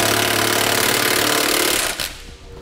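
A power impact tool hammers a hex flange nut tight on a Curt trailer hitch receiver mount under a 2014 vehicle, a loud, close, rapid rattling burst lasting about two seconds before cutting off.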